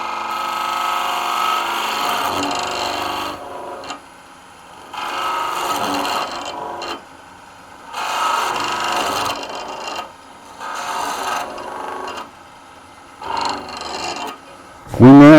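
A woodturning tool cuts a tenon in soft pine on a lathe, producing loud rasping scrapes in several bursts of one to two seconds separated by short pauses, close up.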